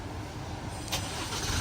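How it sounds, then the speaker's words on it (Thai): An Isuzu MU-X, a 2021–2023 model fitted with an aftermarket keyless push-start kit, turns over by remote start while locked, giving a short engine start that settles into a steady idle, heard alone at moderate distance. "เนี่ยรถทำการสตาร์ทนะเสร็จเรียบร้อยรถยังล็อกอยู่เหมือนเดิมนะ"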